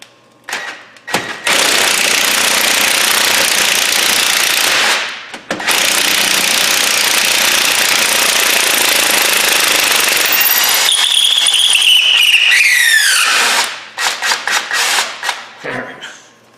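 A Harbor Freight impact wrench spins the lower ball joint nut on a Ford Escape, a loud continuous buzzing hammer that runs in two long stretches, then winds down with a rising whine and a few short bursts.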